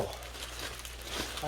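Packing paper crinkles while a rack and pinion for an LS1 conversion is unboxed, a soft, close rustle that grows a little louder toward the end.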